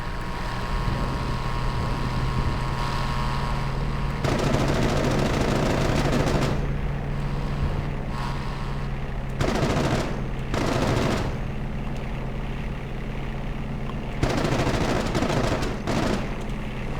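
Cannon and machine gun fire from an A6M2 Zero in the Aces High 3 flight game, several short loud bursts over a constant droning aircraft engine.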